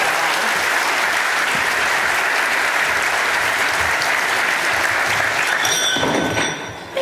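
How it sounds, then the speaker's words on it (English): A tech conference audience gives loud, sustained applause, a thick, even roar of clapping that fades slightly near the end as a voice begins. "So can you please give her a huge round of applause for Charity Majors."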